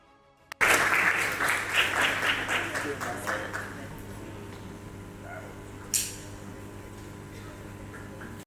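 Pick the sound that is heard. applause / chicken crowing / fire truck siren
applause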